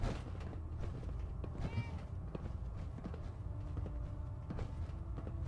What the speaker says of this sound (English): There are cats in here? Did I just hear meow?